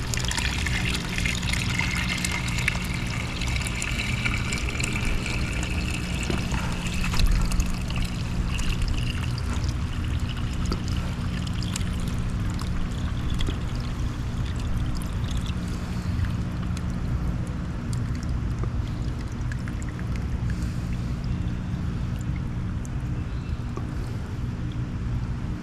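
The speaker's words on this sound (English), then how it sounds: "I'm going to slowly pour the rest of the water off." Water poured slowly off a compost sample gives a steady, soft trickle and pour that runs the whole time, close by and fairly even, with no one talking.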